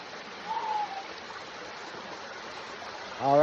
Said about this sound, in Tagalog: dito tayo sa sapa